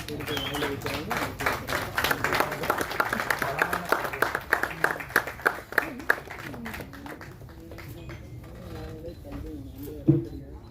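Audience applause at a celebration where a cake is being cut for actress Anikha Surendran, the claps coming in uneven bursts beneath steady talking and a tonal background, trailing off near the end.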